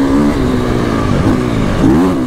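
A Triumph TF450-RC motocross bike engine revs loud and close, its pitch rising and falling in a few surges over a steady throaty drone.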